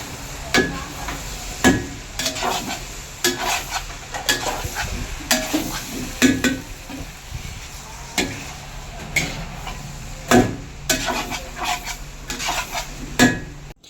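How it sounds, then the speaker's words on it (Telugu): Coconut powder being stirred and fried in a pan for a cluster bean fry at a dhaba, with repeated scraping strokes of a spoon against the pan over a steady sizzle, close and fairly loud, no talk. "కొబ్బరి పొడి పచ్చివాసన పోయేంత వరకు ఫ్రై అవ్వనివ్వాలి."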